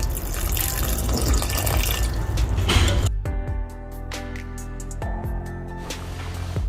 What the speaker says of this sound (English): add half glass water.